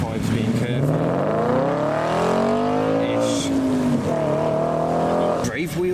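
A modified Audi S5 pulls away from a car show in heavy rain, its engine rising in pitch as it accelerates close by, loud and continuous, with some crowd talk in the background.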